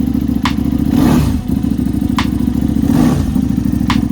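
A KTM 990 Super Duke R with a 990 cc V-twin engine runs close by with a loud, steady, throbbing idle and recurring heavier thumps. No one speaks.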